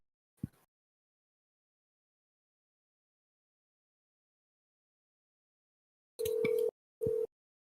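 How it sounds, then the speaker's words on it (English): After a faint click and long silence, a telephone ringing tone sounds twice, a longer burst followed by a shorter one, clear and fairly loud. "Can you hear it ringing?"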